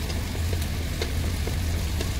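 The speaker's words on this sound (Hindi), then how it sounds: "जीरा और हींग, घी में छोका लगाऊंगी" Green chillies crackling in a hot ghee tempering with cumin and asafoetida, a steady close sizzle with small popping spatters and faint stirring, no talking.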